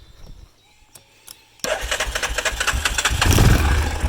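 A used ATV quad bike running on secondhand Chinese carburetor parts gives a few quiet clicks, then its engine catches abruptly and settles into a loud, steady, chugging idle that rises slightly toward the end.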